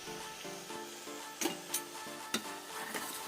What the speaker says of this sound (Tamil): இப்போது நம்ம அரைச்சி வச்சுருக்க வெங்காயத்தை அதில் ஆட் பண்ணிக்கிறோம்